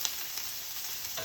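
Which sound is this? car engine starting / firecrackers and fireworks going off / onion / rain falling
onion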